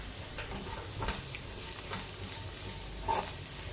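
Fried rice with pepper powder frying in a pan, a soft continuous sizzle with occasional light clinks and scrapes of stirring, moderately quiet and close, without talk.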